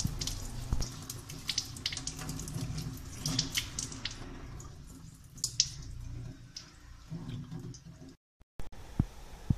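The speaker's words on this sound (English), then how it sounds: "wash the seed pad with distilled water" Running water pours and splashes steadily over an orchid seed pad being rinsed with distilled water, with a few clinks and drips; the flow cuts off briefly near the end before faint drips resume.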